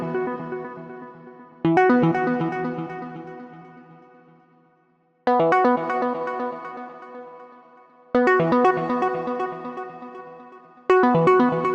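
Guitar chords played through a filtered, modeled delay effect from a plugin, four strummed hits each ringing out and decaying with repeating echoes, clean and alone with no talking.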